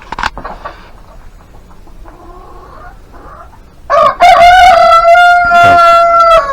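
Hens cluck in short, soft bursts close by in a yard with ducks, then a loud, drawn-out call rings out over them and continues to the end.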